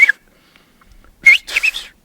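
Traditional Canary Island whistled language, silbo herreño, whistled by a man from El Hierro: short loud gliding whistles, one brief burst then two longer phrases after a pause, close and clear with no talk.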